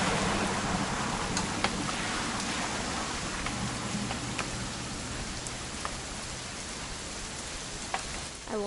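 Steady rain falls in the video game What Remains of Edith Finch, a dense constant patter of drops on surfaces with scattered sharper drip ticks throughout, fairly close and uninterrupted, with no talking.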